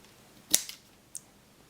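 Two quick, crisp snips of scissors cutting paper, the first sharper and louder, the second a short beat later, in a quiet room with no talking.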